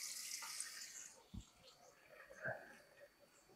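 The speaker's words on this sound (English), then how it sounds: "filling it up, filling the water pail up." Water runs from a kitchen tap into a pail as a steady broadband hiss that fades after about a second, followed by a few soft clunks and faint handling sounds.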